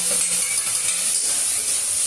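Tomato dropped into spices frying in a pan for an egg-and-fish curry, giving a loud, close, continuous hiss and sizzle that stays even from start to finish.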